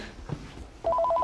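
Telephone ringing in a domestic scene, a short electronic trill of alternating beeps arriving near the end after a moment of quiet room sound.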